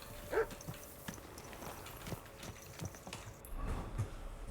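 In Kingdom Come: Deliverance II, a horse's hooves clop at an irregular walking pace, quiet and a little distant, with a few louder thumps and faint ambient game noise.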